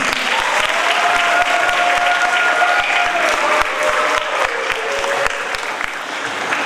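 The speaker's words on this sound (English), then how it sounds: "Let's give them a round of applause." A school assembly for Hispanic Heritage Month erupts in applause for fourth graders, a full room of hands clapping loudly and evenly, with some sharper individual claps and a faint sustained tone beneath.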